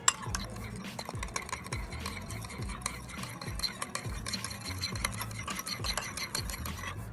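A spoon stirs Milo in a cup or glass to dissolve it for Milo dalgona, with steady repeated scraping and clinking against the sides, close and continuous with no talk.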